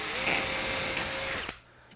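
A power drill whines steadily at high speed, boring a hole through a vehicle bumper for a mounting screw, loud and close, then cuts off abruptly, leaving quiet room tone.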